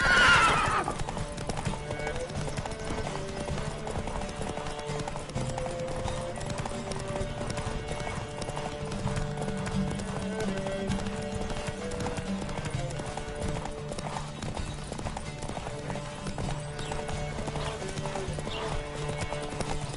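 Hooves pound steadily in a galloping horse race in The Witcher 3, loud and continuous, with a whinny near the start over a game music bed.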